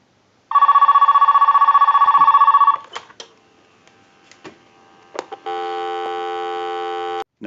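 An AT&T 530 telephone base gives one loud ringing burst of a little over two seconds, followed by a few sharp clicks and then a steady dial tone, close and with no voices.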